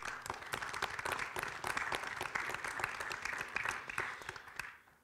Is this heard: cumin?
no